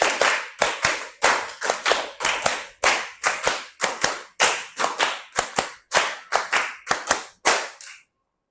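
A fast run of about fifteen crisp hand claps from a group of students in a classroom counting game, close and loud in an even rhythm, stopping abruptly into silence.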